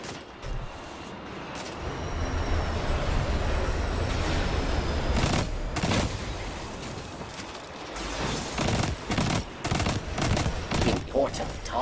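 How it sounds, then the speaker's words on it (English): Gunfire echoes far off in Destiny 2, a rolling run of distant shots and automatic bursts that builds and thins out, with broken clusters of reports near the end and a voice speaking at times. "Somebody either is shooting at somebody far in the distance"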